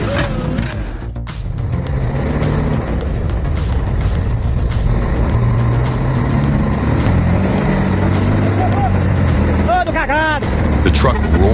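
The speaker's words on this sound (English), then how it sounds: "The truck roared, struggling through the deep, slimy mud" A heavy off-road truck roars and strains through deep, slimy mud, its engine droning loudly and steadily throughout, with grinding wheel noise, a brief high squeal near the end, and voices talking underneath.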